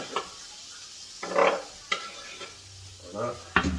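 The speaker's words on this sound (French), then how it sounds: "Là, je fais bien revenir mes baslas." Onions and minced meat fry in a pan for a gratin, with soft sizzling and intermittent stirring scrapes and clinks of a utensil against the pan.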